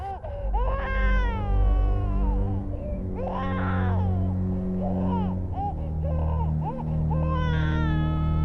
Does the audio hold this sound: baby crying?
yes